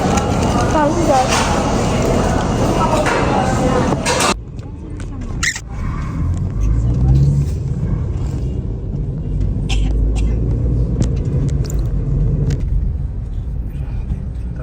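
Road traffic makes a steady low rumble of passing vehicles, with people talking over it for much of the stretch.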